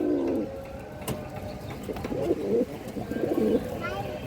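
Pigeons cooing close by in a bird seller's setting, several soft throaty coos repeating over a few seconds against light background noise.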